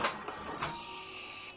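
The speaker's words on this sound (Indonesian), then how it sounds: "dengan otomatis printer kasir akan mencetak transaksi" A POS cashier receipt printer prints a transaction: a brief burst of clicks, then a steady high-pitched whirring feed that runs for over a second and cuts off cleanly, heard alone and close.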